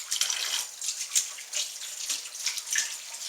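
Tap water runs over hands being rinsed of butter at a kitchen sink, a close, fairly soft splashing stream with uneven bursts as the hands move under it; nobody speaks.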